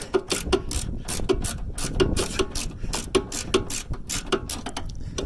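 Ratchet clicking in quick, uneven bursts while tightening the rear upper control arm bolts on a Honda Civic Type R, close up and fairly loud, with no talking.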